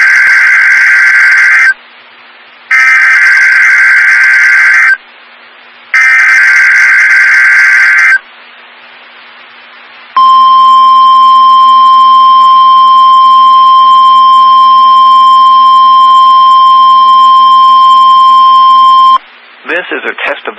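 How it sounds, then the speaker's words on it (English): NOAA Weather Radio weekly test warning alarm from station KIH43 in New Albany, Indiana: three loud, steady electronic beeps are followed by one long continuous alarm tone lasting about nine seconds, with no talking over it. "This is a test of the no weather radio warning alarm device and the emergency alert system."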